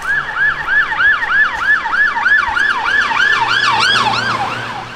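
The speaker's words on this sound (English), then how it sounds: "Guy's got a siren" A siren on an emergency vehicle on the road wails in fast, regular up-and-down sweeps, loud and fairly near, with a second siren tone joining toward the end over faint road noise.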